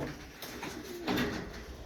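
Turkish high-flying tumbler pigeons give a couple of soft, close coos over a light background hiss.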